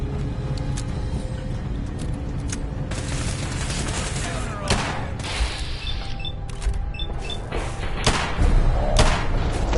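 Gunfire and blasts in a Fallout 4 battle: dense volleys of shots, thuds and booms in a continuous rolling barrage, loud and close, with brief shouted voices mixed in.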